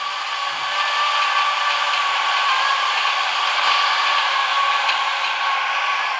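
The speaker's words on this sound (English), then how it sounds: "have a Class 317 double configuration about to pass" Class 317 electric multiple unit in double configuration passing in the Roblox railway game Ro-Scale Railway, a steady loud electric motor whine with hissing rail noise, continuous and alone throughout.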